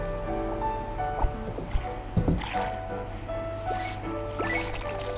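Water runs and splashes at a sink in a cozy Japanese rural-life game, with squishy drips, small clinks and bursts of pouring over a low background music bed.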